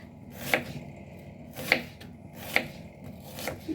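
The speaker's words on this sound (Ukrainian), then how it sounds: "Ріжу цибулю півкільцями." A knife slicing an onion into half rings on a board, three or four separate crisp cuts spaced about a second apart in a quiet room.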